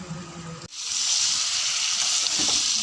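Chicken and potatoes fry in a pan and are stirred: after a brief low clatter, a loud, steady sizzle rises and holds close up, with faint scraping of the stir underneath.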